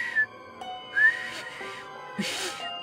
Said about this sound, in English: Him whistling!